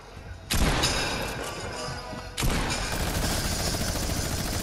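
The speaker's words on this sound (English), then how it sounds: "Oh, so I know Henchman has a minigun." Minigun fire in Fortnite, dense rapid rattling bursts that start abruptly, pause briefly, then resume loud and continuous with booming low thuds beneath.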